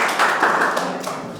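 An audience at a school meeting with teachers claps for a former school director, a short burst of hand claps that is fairly close and steady, then tapering off.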